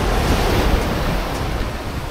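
Ocean surf washes continuously onto a Pattaya beach at Ban Amphur at high tide, a steady close roar of waves mixed with wind buffeting the microphone, no voices.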